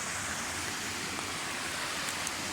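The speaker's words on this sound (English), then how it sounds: "So the waterfall over there." A waterfall swollen after a storm roars as a steady, dense rush of white water, loud and continuous with no voices.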